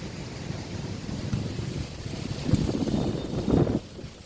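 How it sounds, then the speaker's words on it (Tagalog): Strong wind buffets the microphone in low, rumbling gusts while walking through the town of Looc, swelling louder near the end before easing off. "lakas ang hangin"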